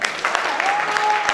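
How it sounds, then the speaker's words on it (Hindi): An audience claps loudly and steadily at a religious discourse, the applause a continuous dense patter with sharp individual claps standing out, while a faint tone runs underneath. "और जोरदार तालियां बजाओ"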